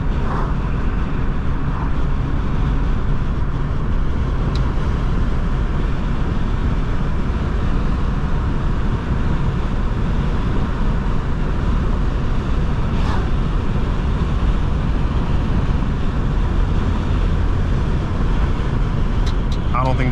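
Constant interior road noise from a 2001 Chrysler PT Cruiser on the move, a dense, even rumble of tyres and engine with a few faint clicks, filling the whole cabin without pause.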